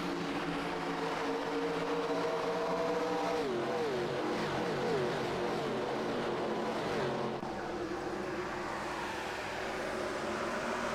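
Several race cars in a stock car cup series race at Homestead accelerate off a corner, a loud, sustained engine roar with pitch rising as they pull away.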